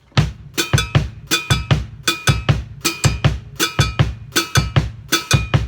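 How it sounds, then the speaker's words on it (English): Steady repeating groove of bright metallic cowbell hits locked with thumping bass drum beats, loud and even, with no voices. "the bass drum and the cowbell would be this"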